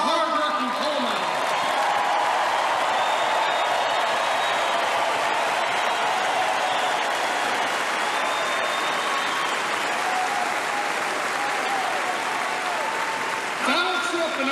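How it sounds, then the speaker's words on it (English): A West Virginia rally crowd applauds for coal miners: a dense, sustained roar of clapping that holds for many seconds, with a voice faintly heard near the end. "A round of applause for our hard-working coal miners."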